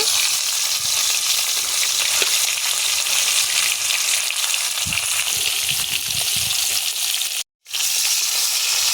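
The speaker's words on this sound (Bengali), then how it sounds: "তেল গরম হয়ে গেছে, একে একে মাছগুলো সব ভেজে নেব।" Pieces of rohu fish frying in hot mustard oil in a kadai, giving a loud, continuous hissing sizzle throughout with one brief cut to silence near the end and no voices.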